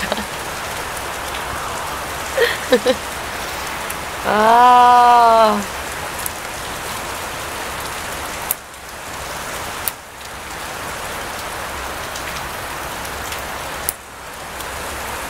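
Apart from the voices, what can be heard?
rain falling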